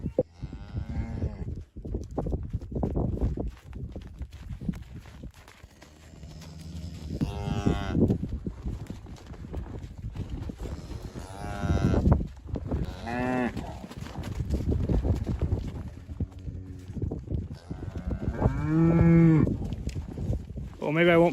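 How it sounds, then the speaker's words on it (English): A black cow calls near her calf at a farm, with repeated loud moos at intervals over a steady outdoor background and some talk mixed in. "that black cow in the back, number 7"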